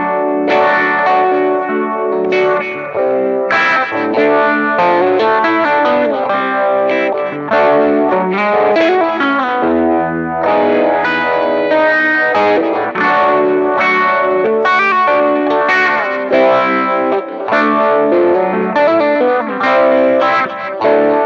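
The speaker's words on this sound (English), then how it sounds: "a classic phase 90 sound" A stock 1979 Fender Strat runs through a Univibe pedal on its Phase 90 setting, slow speed, mix not fully up. The guitar phrases have a lush, sweeping phase and a gritty edge and play steadily throughout.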